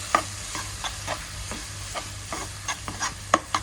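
Spiced masala of chilli, coriander, turmeric, pepper and fennel powders frying for a Kerala prawn roast, with a spoon scraping and stirring the pan in repeated short strokes over a soft steady sizzle, fairly close, no voices.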